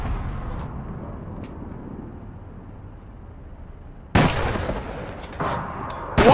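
Automatic gunfire from an N-tech rifle in APB Reloaded, heard as two loud, abrupt bursts over a low rumbling game background, the first longer and the second brief near the end.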